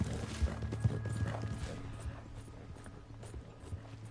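A horse's hooves clip-clop in the Red Dead Online video game, a quiet, irregular run of hoof strikes with soft mechanical sounds underneath.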